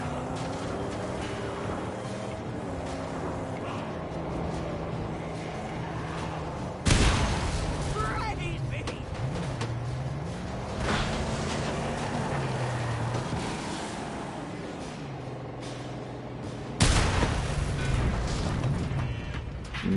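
Gunfire in the Mad Max video game during a fight with a red tank vehicle, with two sharp, loud bursts standing out over steady engine drone and game music, while a player talks over the action.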